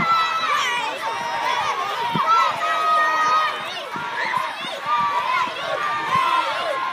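A crowd of children cheering and shouting at a school sports day race, a continuous mass of overlapping young voices rising and falling, with running footsteps faintly beneath.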